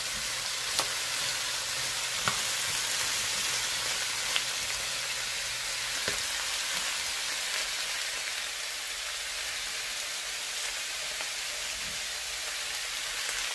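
Red snapper fish fries in a pan and is stirred, giving a dense, steady sizzle with occasional soft clicks of the utensil, close and loud with no voices.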